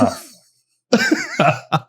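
A person coughs several times up close, one rough cough, a pause, then a short burst of two or three more.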